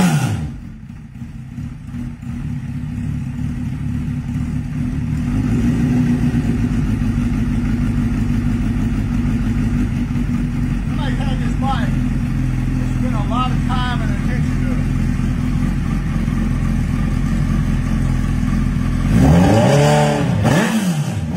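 A pre-owned 2006 Suzuki Hayabusa with 50K miles starts up and settles into a steady, loud idle with a deep low rumble, then revs up sharply near the end; voices talk faintly over the running engine.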